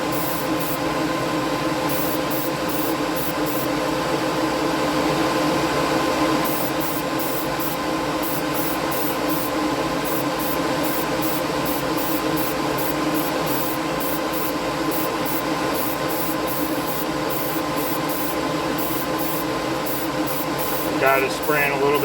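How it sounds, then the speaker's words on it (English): An airbrush sprays Outlaw paint onto a chassis, giving a steady, loud, continuous hiss with faint rhythmic pulsing that runs unbroken for the full length. "Got it spraying a little bit heavier this time. I gotta adjust my tip. It's spraying a little too heavy."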